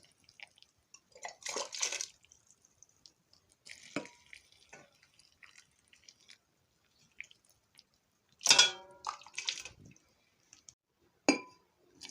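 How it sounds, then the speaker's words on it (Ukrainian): Boiling water poured into three-litre glass jars packed with early cabbage and pepper, heard as scattered glassy clinks, drips and short splashing pours in separate bursts, close and fairly quiet with pauses between. "заливаю кипятком, заливаю кипяченою водичкою"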